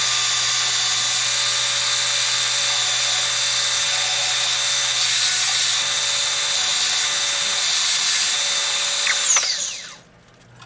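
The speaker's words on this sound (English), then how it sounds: "So use the belt sander to get everything nice and smooth" A belt sander smooths wooden backdrop boards for a model railroad layout, a loud, steady whirring roar that runs unbroken for about nine seconds before spinning down and cutting off.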